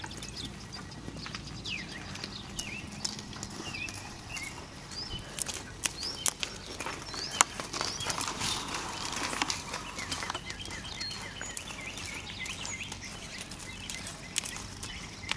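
A horse being ridden and schooled outdoors walks with light, irregular hoof clops and scuffs, fairly distant and soft, amid birdsong and scattered small knocks.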